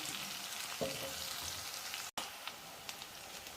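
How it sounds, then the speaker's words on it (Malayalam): Fish pieces sizzle and crackle in hot oil for a pepper fish fry, a steady close frying hiss with scattered pops and one short break. "ഇനി ഇത് നന്നായിട്ട് മുരിച്ചെടുക്കണം നമ്മൾ ഫ്രൈ ആക്കി കഴിക്കുന്ന അതേ രീതിയിൽ മുരിച്ചെടുക്കണം"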